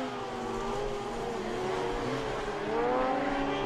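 Racing sidecars blast through the chicane at the Sachenring in a tightly packed field, engines howling and rising in pitch as they accelerate. The loud, continuous engine roar layers several machines with no pause.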